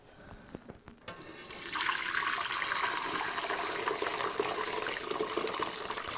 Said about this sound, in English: I have a strainer over a pot here, and we're going to strain the bone broth